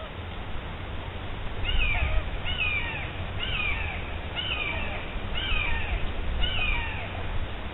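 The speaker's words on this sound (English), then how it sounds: "Some kind of raptor making some noise." Raptor, probably a falcon, calling on a nature hike: a series of six or seven sharp, descending cries at a steady rhythm, moderately distant over low wind and background noise.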